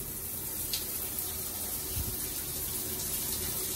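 A bathroom tap runs steadily as water is checked for hot supply after a storm, a continuous close hiss of flowing water with no talk over it.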